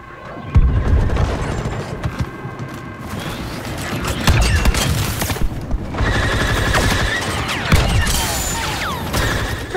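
Blaster fire and explosions from the video game Star Wars Battlefront 2, with dense rapid volleys, heavy booms and mechanical clatter in a loud, continuous battle.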